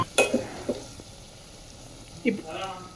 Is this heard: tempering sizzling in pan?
yes